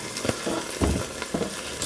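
Italian pork skewers sizzling in an air fryer basket as they are turned, with a few soft clinks and scrapes of handling over a steady low frying hiss, close and fairly quiet.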